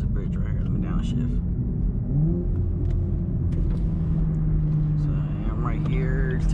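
A wrapped 700+ HP Corvette downshifting as it passes under a bridge: a loud, close engine rumble with rising and falling rev tones, with someone talking over it.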